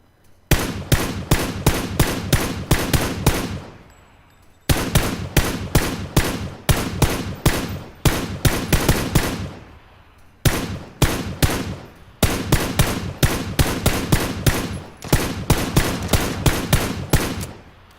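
Bursts of rapid automatic rifle fire in PUBG on Xbox One, four clusters of loud, evenly spaced sharp shots separated by short pauses, close and alone with no talking.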